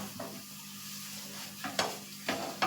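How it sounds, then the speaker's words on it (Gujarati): A coconut modak mixture is stirred in a pan after the gas is switched off, a soft low hiss broken by three or four distinct scraping strokes of a spoon across the pan's base, close by and without speech. "ગેસ બંધ કરી ને પણ થોડી વાર આ રીતે ચલાવતા રહેશું"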